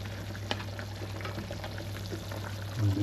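Pasta simmering in a pot on a stove ring gives soft, scattered bubbling and small pops over a steady low hum, fairly quiet and close.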